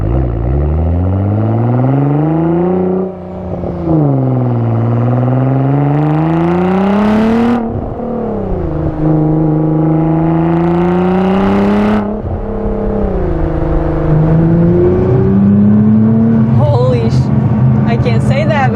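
A Nissan GTR on an aftermarket exhaust revs and accelerates through repeated pulls, its loud deep drone climbing in pitch, dropping at each gear change, then rising again before settling toward the end.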